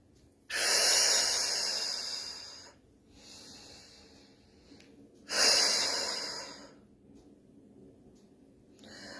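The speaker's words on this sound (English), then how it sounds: "Let's breathe in and blow out." A person takes two long, slow, audible breaths close up, each a loud airy rush lasting about two seconds, followed by quieter exhalations, with no talking.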